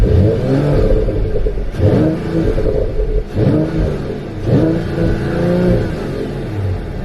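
Mercedes-AMG GT53 four-door coupe in Super Sport mode with exhaust valves open, revved loudly and close in repeated rising pulls that each drop back before climbing again.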